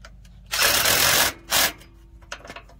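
A DeWalt power driver drives in a fastener with a loud whirring burst of almost a second, then a shorter second burst, followed by faint clicks and handling noises nearby.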